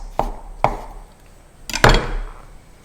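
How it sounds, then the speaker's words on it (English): A knife slices through a single mushroom on a board: two crisp separate cuts, then a quick double stroke, close and clear with no talking. "we've got 1 mushroom. Just going to give it a little slice"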